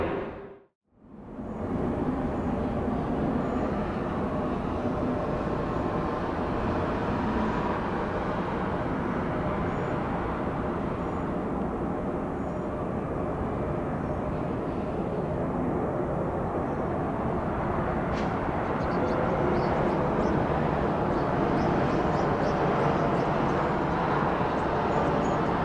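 An airplane on runway 26 left at Atlanta International Airport gives a loud, steady roar that holds for the whole stretch after a brief quiet moment at the start, with no talk over it.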